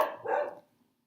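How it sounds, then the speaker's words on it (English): A dog barks once nearby, one sharp loud bark that trails off quickly into quiet, with no one talking. "I apologize if my dog keeps barking."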